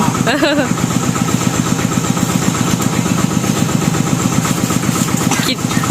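Small single-cylinder engine of an i-taen, a Thai farm truck, chugs steadily and loudly at close range throughout the ride, with people talking over the constant rumble.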